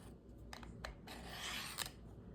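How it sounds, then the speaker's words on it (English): A knife blade is drawn back and forth along a ceramic honing rod, giving a few quick scraping strokes and then a longer, steadier rasping pass, close and fairly quiet with no talking. "the ceramic rod is used to hone the blade"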